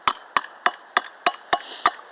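Hammer striking metal with a dead, solid metal-to-metal sound: eight sharp, evenly spaced blows, close and fairly loud, with no voices.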